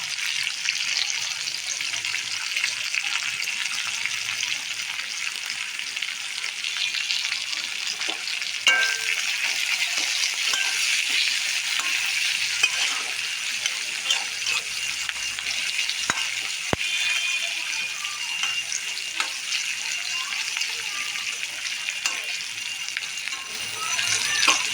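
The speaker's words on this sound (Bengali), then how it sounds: "এই তেলের মধ্যেই আমি পেঁয়াজগুলো ভেজে নেব।" Chopped onions and green chillies frying in oil for pasta, a close, steady sizzle with soft stirring rattles running continuously for the whole stretch.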